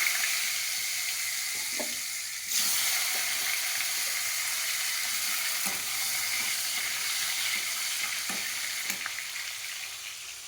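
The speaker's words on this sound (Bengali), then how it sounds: "গোটা জিরে দিয়ে দিলাম একটু জিরেটা রেডি দিয়ে দিচ্ছি আলু" Potatoes fry in oil with whole cumin seeds, a strong close sizzle that swells as they go in, then holds as a steady hiss with a few spatula scrapes, slowly easing.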